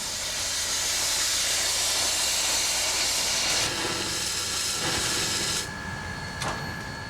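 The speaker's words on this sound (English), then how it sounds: "no one gave a second thought to a steam engine waiting in a rail yard." Steam engine standing in a rail yard, giving off a loud, continuous broadband hiss of escaping steam that holds steady for several seconds, then drops slightly in level near the end, with no voices.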